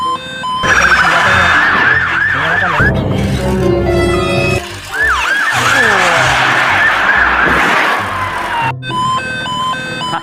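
Toy highway patrol car siren wailing loudly and continuously in repeating electronic sweeps, with a brief drop in the middle, close to the microphone.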